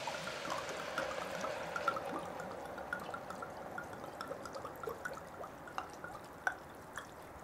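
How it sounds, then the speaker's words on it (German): A full bottle of red wine poured over red cabbage in a cast-iron Dutch oven, a steady quiet trickle and splash with small drips throughout, no voices. "nehmt ihr die Flasche Rotwein und gießt die komplett da dran."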